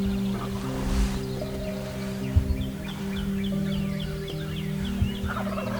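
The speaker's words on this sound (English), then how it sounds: "when the birds started gobbling" Wild turkey toms gobble repeatedly in the woods during a spring hunt, several rolling calls at moderate distance over a steady bed of other bird calls and faint rustling.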